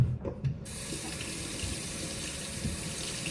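Tap water gushes steadily into a sink as hands are washed, a close, continuous splashing rush that follows a few brief knocks at the start.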